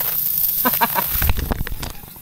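Air hissing from a tire leaking at a bent mag wheel despite white tire sealant inside, a close, loud broadband hiss running through the clip with brief bursts of voice and handling noise over it.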